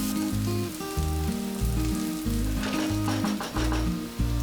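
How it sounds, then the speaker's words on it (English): Chopped onion fries in hot oil in a pan with a loud, continuous close sizzle, heard under steady background music. "in a hot pan add oil, add 1 onion chopped and fry it until the onion is nice and soft"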